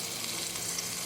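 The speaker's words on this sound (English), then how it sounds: "Here I'm starting my second frying session" Oxtail sizzles steadily in a hot pan, a continuous crackling hiss at low volume with no voices.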